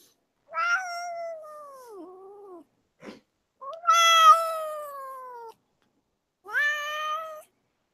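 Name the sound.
cat meowing for attention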